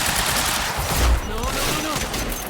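Gunfire in Quantum Break, dense sustained bursts of suppressing fire that keep up loud and steady throughout, one heavier thump midway, with a shouted voice briefly over the shots.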